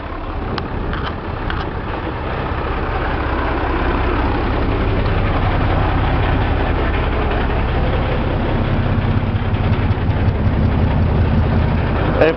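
Twin Hino diesel engines of a Bayliner 3870 motor yacht running in gear, a steady, continuous low throbbing drone with constant loudness throughout, no voices.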